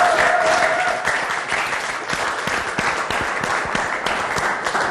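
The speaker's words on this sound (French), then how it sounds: "Est-ce qu'on peut acclamer mieux que ça?" Audience at a church worship concert applauding and cheering: a dense, steady wash of clapping from a large crowd, with a brief whistle-like tone at the start, fairly loud and without talk.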